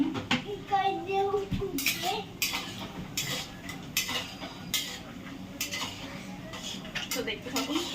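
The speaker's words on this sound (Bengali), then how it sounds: "তারপরে কি করে বাদামটা নেড়ে নিচ্ছি হালকা করে" Peanuts roast in a pan and are stirred, with metallic scraping and rattling clinks coming in irregular bursts close by. A voice talks intermittently underneath.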